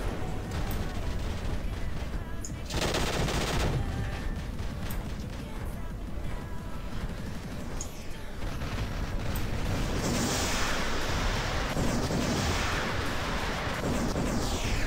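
Robots trade fire in the War Robots video game, with dense, continuous booming gunfire and explosions rolling through the whole stretch, loud and busy, and a brief lull before heavier bursts return.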